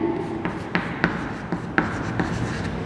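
A pen or chalk writes out the table of 7 in a classroom, with short scratchy strokes and distinct taps in an uneven rhythm, close and clear over a quiet room.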